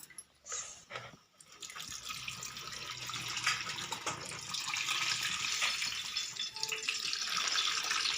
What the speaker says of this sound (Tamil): இப்போ புளியை கரைச்சி வச்சுருக்கிறேன், அதை ஊற்றிக்கலாம்.